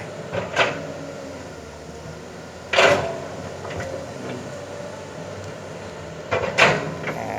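The bucket joints of a Kobelco SK200 Mark 5 excavator, with drying grease, creak and groan in three separate bursts spaced a few seconds apart, over a low, steady machine rumble.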